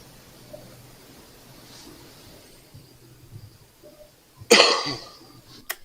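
A single sharp cough bursts out loudly near the end after a quiet stretch of faint background noise, followed by a brief trailing sound.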